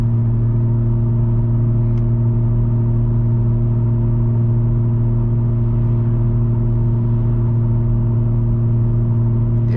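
Inside a 2021 Toyota Supra with muffler delete and downpipe at 80 mph on the freeway, the exhaust drones as a loud, unchanging low hum with layered steady tones, heard alone without talk.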